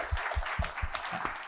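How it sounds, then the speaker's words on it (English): An audience at the close of a panel discussion gives the panel members and the host a steady round of applause, a dense wash of clapping with a few heavier hand thumps, sustained evenly through the moment. "Give the panel and Brian another round of applause."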